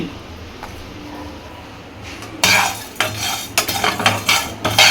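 Whole spices for prawn biryani masala are dry-roasted in a pan: cinnamon, marathi moggu, star anise, cloves, cardamom, stone flower and mace. Quiet at first, then they clatter and rattle loudly as they are stirred and tossed close by.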